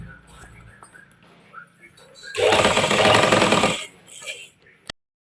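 Sewing machine stitching a strip for a kurti: one loud, rapid burst of about a second and a half follows quiet handling and soft talk, then stops abruptly.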